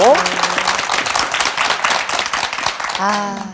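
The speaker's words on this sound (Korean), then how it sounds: "박수로 맞아주시겠어요?" Studio audience applause on a Korean TV talk show, loud and sustained with dense clapping throughout, as a married couple comes out to greet the host.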